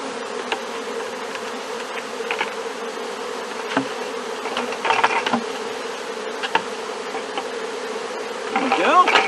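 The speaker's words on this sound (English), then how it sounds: "There's probably about 10 or 12 bees left down in the bucket." Steady, dense buzzing of a honeybee swarm, continuous and close, with a few louder passes of individual bees near the end.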